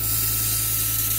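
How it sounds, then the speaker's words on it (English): Compressed-air blast carrying an alcohol mist onto aluminum being cut on a 3018 CNC router, a loud, steady close-up hiss with a low machine hum beneath, no voices. "I have an air blast, and I have another air with alcohol in it"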